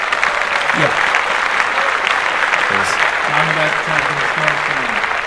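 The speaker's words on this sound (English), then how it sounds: "The man behind the scenes today is Eli in the building. Clap that up." Loose clapping in a podcast studio for a behind-the-scenes crew member, steady and fairly close, with voices talking and reacting over it.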